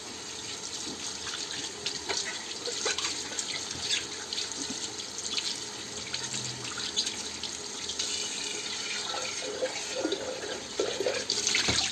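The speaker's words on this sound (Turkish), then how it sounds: "çayla temizledikten sonra çaydanlığımızı yıkayalım." A teapot is rinsed under a running kitchen tap, with steady splashing water and small knocks and clinks of the pot moving in the sink throughout.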